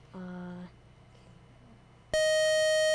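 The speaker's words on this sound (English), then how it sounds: "That's our buzzer." Two electronic game show tones sound: a short buzzy beep first, then after a pause a loud, harsh buzzer blares and holds to the end.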